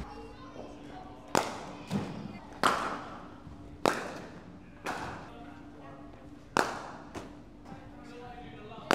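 Cricket bat striking ball during a net session at Lord's, a series of sharp wooden cracks, roughly seven hits at irregular intervals, close and crisp with a faint steady hum underneath.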